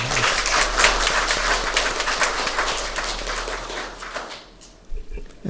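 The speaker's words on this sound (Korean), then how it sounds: "오늘 아주 좋은 찬양 준비해 주신 성가대원들에게 우리 다시 한번 감사의 박수" A church congregation at a Christmas service at Hanyang University church applauds the choir, with thick, rapid clapping filling the room for several seconds before tapering off into a few scattered claps.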